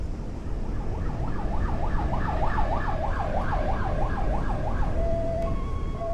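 Ambulance siren in the driving video game Accident on an icy motorway, a loud wailing up-and-down tone cycling rapidly and close, then switching to a steadier tone with a brief beep near the end over road rumble.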